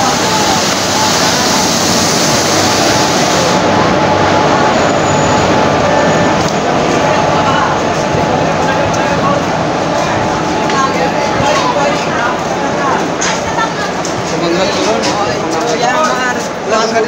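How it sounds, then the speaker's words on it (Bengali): Train pulling into Khagra railway station on a journey from Khagraghat, with a loud, continuous rumble of carriages heard up close from on board. "দেখতে পাচ্ছেন এখন খাগড়া রেল স্টেশনে ট্রেন ঢুকলো।"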